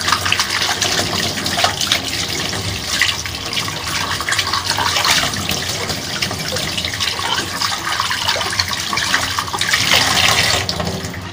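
Tap water runs steadily while a diving mask is rinsed in a sink, a loud, continuous splashing gush that lasts throughout, with no voices over it.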